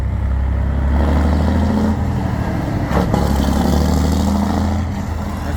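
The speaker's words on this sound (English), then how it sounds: "That's a noisy tractor." A large tractor engine rumbles steadily past at a local Christmas display, a loud, continuous low drone that holds for several seconds before easing slightly near the end.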